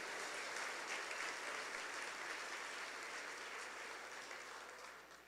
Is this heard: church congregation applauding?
yes